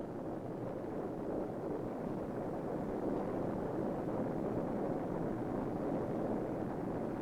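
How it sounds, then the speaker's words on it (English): A Pershing missile first stage booster motor fires on a static test stand, a steady, dense roar holding at constant loudness throughout, heard from a distance with no speech. "The first stage booster motor is now firing."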